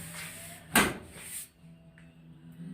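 A Plymouth Cuda's freshly sanded and welded car door gives one sharp, loud thump as it shuts, followed by a fainter rustle and then quiet. No one speaks.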